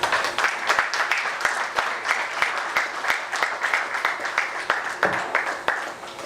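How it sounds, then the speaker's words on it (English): Round of applause from an indoor audience at a bank's launch event for its management team, steady crowd clapping across the whole stretch with sharper individual claps poking through. "A great round of applause for our fantastic management team."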